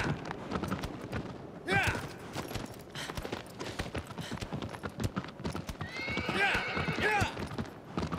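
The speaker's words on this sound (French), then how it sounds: "Allez, le cheval!" A horse in the Shadow of the Colossus video game gallops with rapid, rhythmic hoof clip-clops and gives two clear neighs, while a player talks over the game sound.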